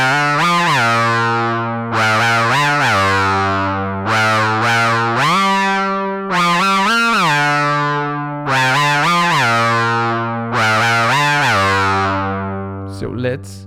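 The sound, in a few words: Vocal lead patch on Moog Grandmother synth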